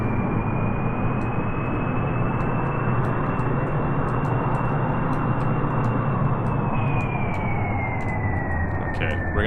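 Aircraft engine throttling up in Kerbal Space Program: a steady, loud droning roar with a high whine that holds and then dips slightly near the end.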